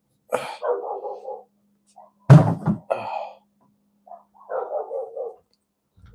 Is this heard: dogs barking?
yes